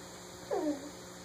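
A house cat gives a single short, faint meow over a quiet indoor background hum.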